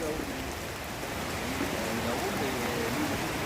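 Rain falling on an outdoor market in Vidauban, a soft steady hiss of drops heard at a distance, with faint voice-like tones drifting through the background.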